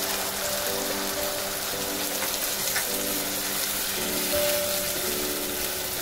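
Water pours into a cooking pan of bitter gourd and dried kachki fish, a continuous close hiss and splash with a faint underlying hum and no talking.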